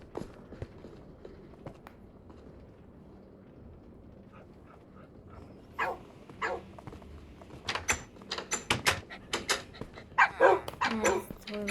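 A furry puppy barks and whimpers, with footsteps and scuffling around it. The sounds start quiet and sparse, then grow into louder, busier bursts toward the end, and a voice talks nearby.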